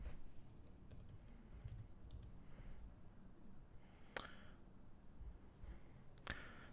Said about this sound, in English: if we type that into our calculators